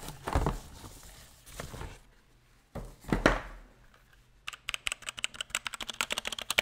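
A small computer keyboard, part of an old desk setup, clatters with a fast, steady run of close typing clicks. Brief talking and handling noises come first.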